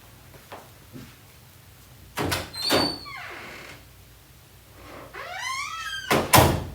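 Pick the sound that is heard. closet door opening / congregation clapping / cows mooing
closet door opening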